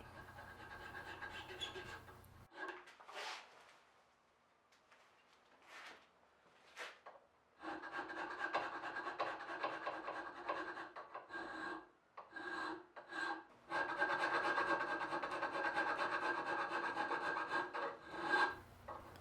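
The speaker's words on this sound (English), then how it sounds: "I'll file the tang to its final shape" Hand file rasping along the steel tang of a Japanese-style blade made from an old muzzleloader barrel, heard as bursts of close, scratchy strokes separated by pauses and ending in a long run of steady filing.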